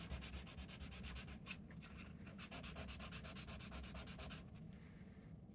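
Sandpaper rubbed back and forth over a small plastic Lego figure, a quiet, steady, close scratchy rasp in even rhythmic strokes with no voices.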